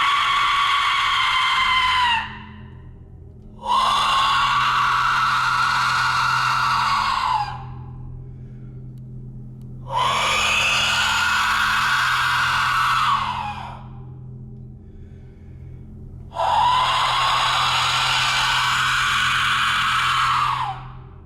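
Four long, loud, piercing screams, each lasting a few seconds and separated by short pauses, over a low steady hum, in a museum at night.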